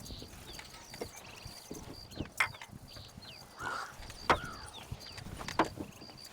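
Hoof clip-clops from a horse ring out at an uneven pace amid a busy soundscape in the video game Red Dead Redemption, with occasional clanking mechanical noises.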